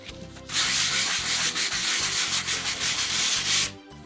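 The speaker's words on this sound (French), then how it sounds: "Ici, on va venir poncer légèrement toutes les intersections" Fine-grit sandpaper rubbed lightly by hand over the joints of an old wooden secretary desk being refinished, giving a steady, close, rhythmic scratchy rasp of repeated strokes for several seconds with no talk.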